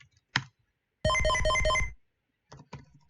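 A button press on a shuttle control panel in the Space Quest 2 video game brings up a loud synthesized tone that lasts about a second, with faint scattered clicks before and after it.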